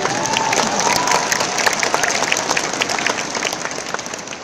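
An audience at a Kangen Water Life Celebration Day event bursts into steady applause, dense clapping from many hands holding at an even level for a few seconds.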